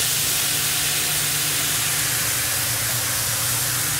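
Wine poured into a hot pan hisses with a loud, steady steam-and-sizzle wash that holds evenly throughout, with no talk over it.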